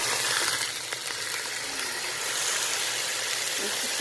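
Frozen meat roasts in a Magic Cooker pan, giving a steady, loud sizzle and crackle throughout with no voices over it.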